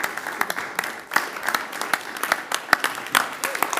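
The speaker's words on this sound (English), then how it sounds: "I'm going to stand and give you a round of applause" Applause at a city council meeting: scattered, uneven claps from a small group in a room, with voices talking over them.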